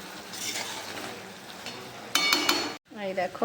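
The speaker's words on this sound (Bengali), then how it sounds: "কচুরি ভাজা শুরু হয়ে গেছে" Pea-stuffed kachori frying in hot oil, a steady soft hiss with brief clinks of a utensil against the pan, while someone speaks briefly over it.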